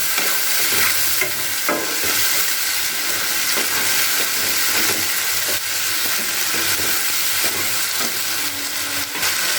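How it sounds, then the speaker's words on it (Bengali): Ginger, garlic and onion paste frying in a pan is stirred, giving a loud, continuous close sizzle with scraping stir strokes through it. "এবার আমি আদা রসুন আর পেঁয়াজ বাটাটাকে এর মধ্যে দিয়ে দিলাম দিয়ে আবার কিছুক্ষণ ভালো করে একটু নাড়াচাড়া করে নিচ্ছি এটাকে"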